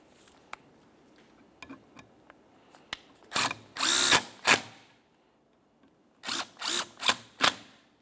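A power tool runs in short bursts while brake caliper slider bolts are snugged on a 1994-2002 Dodge Ram 2500. Small clicks of parts being handled come first, then several close whirring pulses.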